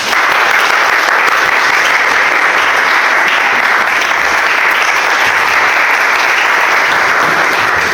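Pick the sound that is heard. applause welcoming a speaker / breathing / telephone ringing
applause welcoming a speaker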